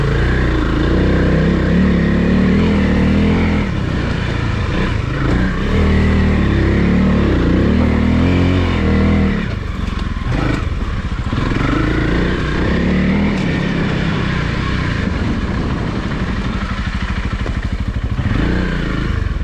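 Honda CRF300L motorcycle on an off-road enduro test ride, with its engine close and loud throughout as it revs up and drops back in changing throttle surges.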